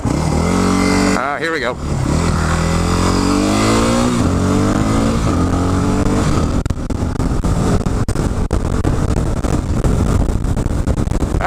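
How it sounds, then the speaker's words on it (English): A quiet stock-exhaust motorcycle engine revs and rumbles steadily while riding, climbing in pitch early on, while a person speaks briefly over it. "This bike is really quiet, which is I guess kind of a good thing."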